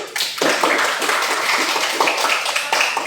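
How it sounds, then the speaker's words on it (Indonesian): Classroom students clapping for a group after its presentation, a dense patter of many hands lasting a few seconds at steady strength. "Oke, tepuk tangan untuk kelompok 3"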